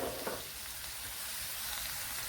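Onions sauté in oil with a little salt in a pan for a green banana stew, giving a steady, close sizzle with faint stirring scrapes throughout.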